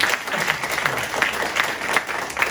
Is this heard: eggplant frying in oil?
no